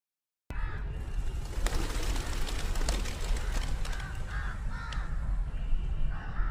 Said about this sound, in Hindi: दोस्तों यहाँ पर देखिए बहुत सारे कबूतर।